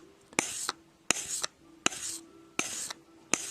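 Five rhythmic rasping strokes of a sanding block worked along a knife blade during sharpening, each a short scratchy rub with brief pauses between, close and clear.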